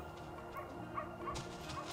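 A small dog in The Sims 2 game gives a few short yips and barks over a quiet background hum, soft and spaced out across the moment.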